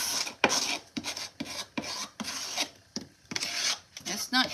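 A scraper rasps repeatedly against chipped paint on a wooden picture frame, with short, loud scraping strokes in an uneven rhythm and brief pauses between them.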